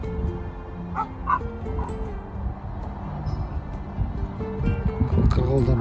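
Dogs kept at a guarded house beside the Kapchagay reservoir bark and yip outdoors at moderate distance, with wind and handling noise and a voice talking over them.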